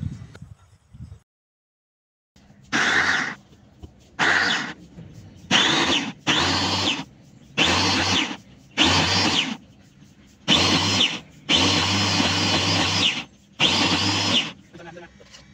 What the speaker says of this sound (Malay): Kita akan blender hingga halus.